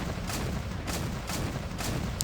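Rapid cannon fire from a Warrior armoured vehicle's 30mm L21A1 Rarden cannon in Men of War: Assault Squad 2, heard as three evenly spaced sharp reports over a steady rumbling battle din.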